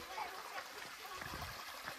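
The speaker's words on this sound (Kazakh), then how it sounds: "Таудан су ағып тұр." Mountain stream water runs down near a place called Samal, a faint, steady rushing murmur heard under quiet voices.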